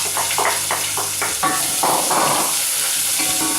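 Chunky onions hitting hot oil with popping mustard seeds for a jackfruit dish, a loud close sizzle and hiss with stirring scrapes and crackles throughout.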